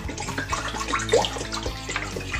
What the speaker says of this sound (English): I'm going to put some beef stock in the slow cooker here.